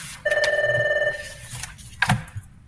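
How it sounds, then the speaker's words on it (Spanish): A telephone rings nearby with a bright electronic trill lasting about a second, followed by a short second burst, in an otherwise quiet room. "Ese es el teléfono de Néstor"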